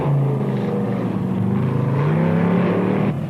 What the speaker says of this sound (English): The biggest and strongest monster trucks of the planet have gathered at a unique location for racing.